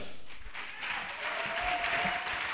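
Congregation applauding during a church service, a steady wash of clapping that carries through the whole moment at moderate volume, with a faint sustained tone running underneath.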